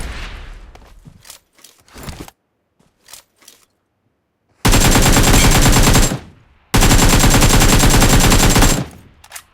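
Automatic gunfire in the video game PUBG comes as two loud, sustained bursts of rapid shots, each lasting over a second, after a stretch of quieter scattered clicks and thumps.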